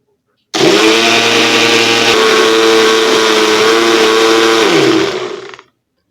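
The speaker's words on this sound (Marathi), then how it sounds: "इथे मी ब्लेंडर वापरणार नाही तर मिक्सरच्या सहाय्यानेच मी याला ब्लेंड करणार आहे" A mixer grinder blends a pistachio and almond ice cream mixture in a loud, steady motor whine that starts abruptly, holds for several seconds and winds down at the end.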